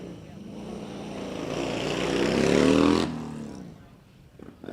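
A drift car engine on a dyno, at a DrifterCross event in Sturgis, roars loud and steady, climbing in pitch to a peak then cutting off abruptly, followed by a quieter idle with a few brief revs.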